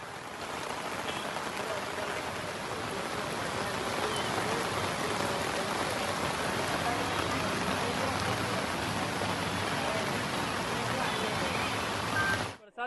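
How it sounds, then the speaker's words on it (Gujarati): Monsoon rain pours steadily over a waterlogged town, a dense, even hiss of falling water that holds for the whole stretch before dropping away abruptly at the end. "વરસાદ પડી રહ્યો છે"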